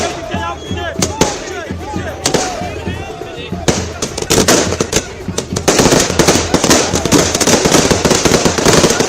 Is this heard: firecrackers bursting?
yes